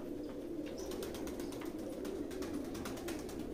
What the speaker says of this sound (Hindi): ये देखिए दोस्तों, ये नीचे के कबूतर,